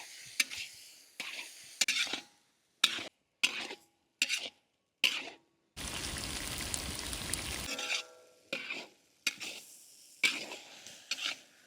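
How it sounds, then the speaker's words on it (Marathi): A spoon clinks and scrapes in a pan while grated fresh turmeric and ginger are sautéed, short stirring taps separated by pauses and a soft steady sizzle for a couple of seconds in the middle, close and fairly quiet. "किसलेली हळद हळद आपण आता चार ते पाच मिनटं व्यवस्थित परतून घेऊ"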